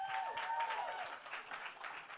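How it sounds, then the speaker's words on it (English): Audience applause at the Grammy Museum before a Backstreet Boys Q&A, a quiet, fairly distant patter of clapping mixed with a sustained tone, with no voices. "You should save that applause"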